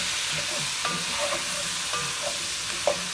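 Beef and vegetables coated with flour stirred in a pot for boeuf bourguignon, with soft scraping strokes every second or so over a low hiss.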